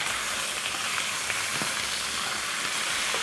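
Lamb meat hits already fried onions in a hot pot, giving a loud, continuous sizzle and hiss that stays close and steady, with a faint soft scrape partway through.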